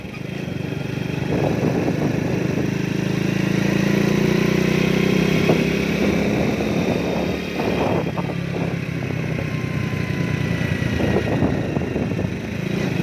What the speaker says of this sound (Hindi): बाइक स्लो चला रहा हूं ताकि वीडियो सही बने।